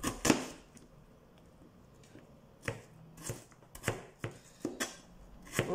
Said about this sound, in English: We're just going to cut that finely.